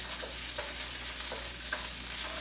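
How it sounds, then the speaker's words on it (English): Onions, garlic and ginger fry in chicken drippings in a frying pan, a close continuous sizzle with soft stirring scrapes and no talk. "I'm going to go ahead and add my onions, my garlic, my ginger into the dripping that's here."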